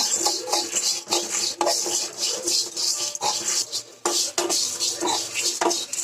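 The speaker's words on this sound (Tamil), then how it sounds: "டப்பு டப்புன்னு சவுண்டு கேட்கும்." Horse gram and grated coconut dry-roasting in a pan, with continuous scraping and stirring and scattered small crackling pops close by, no voices.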